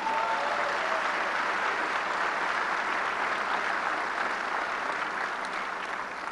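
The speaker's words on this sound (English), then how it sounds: "Let's give him all a round of applause." Steady, dense applause from an audience at a Bronx Borough President inauguration ceremony in New York, filling the room evenly for several seconds with no voices on top.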